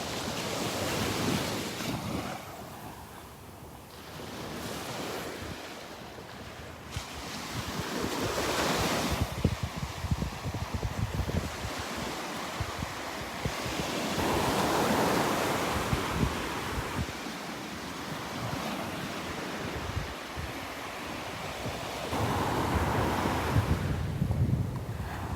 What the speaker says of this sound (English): Start walking into the wind now.